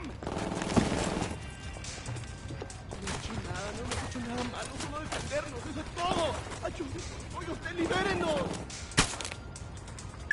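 Gunfire in the Tom Clancy's Ghost Recon open beta: scattered sharp shots and brief volleys, a couple of louder cracks standing out, with voices talking over the ambience.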